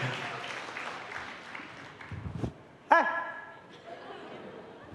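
A church congregation briefly claps and murmurs after a sermon, a soft scattered patter at a distance, followed by a short voiced exclamation and quieter room sounds.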